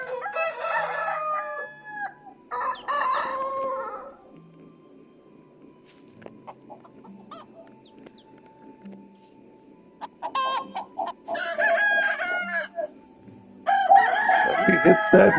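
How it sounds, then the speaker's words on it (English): Several roosters crow and cluck in the medieval farming game Medieval Dynasty, repeated loud crows in bursts separated by quieter stretches of low clucking and faint ambient sound. "I have a lot of roosters here."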